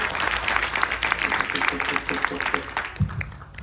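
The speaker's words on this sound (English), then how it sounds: "give Punjaji a round of applause" An audience applauds for Punjaji at a Ganesh Chaturthi festival night, clapping steadily and close for several seconds with voices mixed into the noise.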